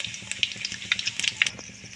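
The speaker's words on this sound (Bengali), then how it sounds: "কড়াতে আরেকটু তেল দিয়ে দিয়েছি, তার মধ্যে দিয়ে দেবো তেজপাতা, একটু পাঁচফোড়ন। একটু ভেজে নেব পাঁচফোড়নটা" Whole spices and bay leaf crackle and sizzle in hot oil in a kadai, a close, busy frying hiss with small sharp pops throughout and no talking.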